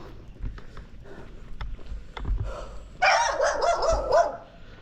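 A dog barks in a quick cluster of several sharp woofs, fairly close, after a stretch of quieter background noise and scattered knocks.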